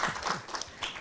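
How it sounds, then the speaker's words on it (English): Applause from an audience at the close of a day's AI and medical imaging lecture session, a dense, brief wash of clapping at moderate volume. "a round of applause to all of you will be good"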